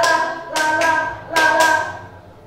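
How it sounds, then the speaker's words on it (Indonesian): Hands clap four times in two quick pairs, each pair spaced like a counted beat for music notes, sharp and nearby with a short tail, and no voices are heard. "Semuanya bilang do ya. Tepuk 1, tepuk 2, tepuk 3, tepuk 4, tepuk 5"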